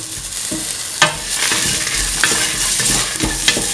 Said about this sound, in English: Mix it for me.